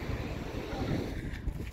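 Steady wind buffets by the sea on a footbridge, a continuous roar with rumbling gusts against the microphone and no voice.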